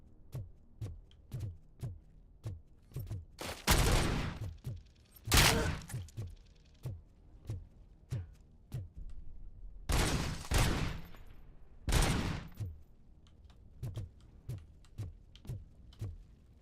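Bursts of gunfire from the video game Robocop: Rogue City, with several loud, dense volleys standing out over a steady run of short, regular clicks or shots, all without speech.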